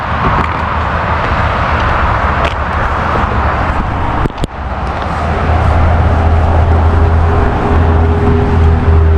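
Road traffic passes on the Lake Reading Bridge, a close, loud continuous rumble of vehicles with a low engine drone building toward the end.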